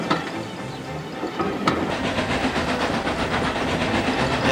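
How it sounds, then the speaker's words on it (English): A steam railway engine puffing along through countryside, rapid rhythmic chuffs with hissing steam and rail clatter, loud and close, running continuously without talk. "Wickham was puffing along the countryside"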